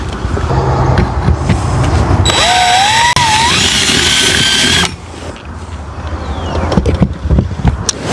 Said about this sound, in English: So that's not super hard to drill through.